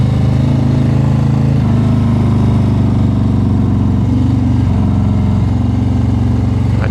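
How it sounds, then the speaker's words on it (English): A Harley-Davidson Road Glide ST engine drones steadily while riding through a canyon, a loud, continuous low rumble with slight pitch shifts as the throttle changes, close and unbroken. "the droning of the engines in the background"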